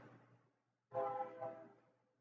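A train passes at a distance, its horn sounding in a fairly faint, sustained blast that swells and then fades away.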